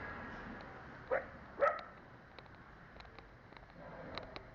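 A dog gives two short, quiet yelps about half a second apart, followed by faint background noise.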